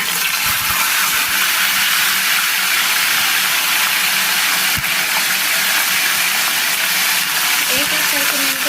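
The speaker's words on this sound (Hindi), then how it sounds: "एक साइड से मैं इनको फ्राई करूँगी।" Chicken tandoori tikka pieces dipped in a mixture fry in hot oil, giving a steady, loud broadband sizzle and hiss that runs unbroken throughout, with a few faint clinks near the end.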